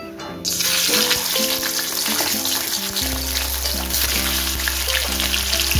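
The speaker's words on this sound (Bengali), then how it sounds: "দেখুন তেলটা গরম হয়ে গেছে, অনেকটা ধোঁয়া উঠছে। এবার আমি মুড়োগুলো আস্তে আস্তে ছেড়ে দেবো।" Fish heads slide into smoking-hot oil and break into a loud, dense sizzle that carries on steadily up close, with a low background hum and no speech.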